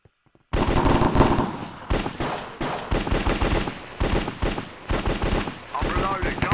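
AK rifle gunfire in the video game Cops and Crims: after a moment of near silence, loud, close bursts of rapid automatic fire start abruptly, broken by short pauses between volleys.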